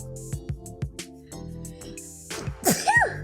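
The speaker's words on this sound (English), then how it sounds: "Oh god, I might sneeze." A person sneezes once near the end, a sharp loud burst after a run of soft tapping and rustling sounds, with no talk in between.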